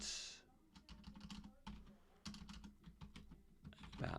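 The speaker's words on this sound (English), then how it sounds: "I'm using an alternate keyboard, and it's throwing me off" Rapid typing on an alternate computer keyboard, used in place of an Apple keyboard, with dense clusters of close, crisp key clicks in uneven bursts and short pauses, alone without talk.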